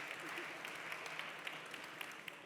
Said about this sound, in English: Give a big round of applause, ladies.